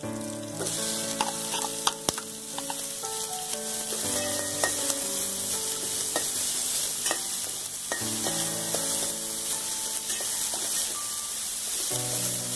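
Onions fry in a pan of oil with browned fenugreek and green chillies for a Chennai-style fish curry, a steady bright sizzle under occasional spatula scrapes and stirring clatter, close and continuous.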